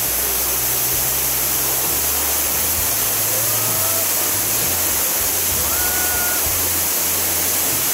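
A steady, full roar of Somerset Falls in Jamaica gushing down a hillside and splashing into pools, loud and constant with no voices.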